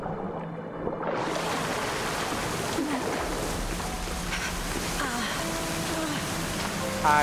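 Rushing water pours behind a waterfall inside a cave in Assassin's Creed Odyssey, a steady broad roar that continues at an even level while someone speaks over it.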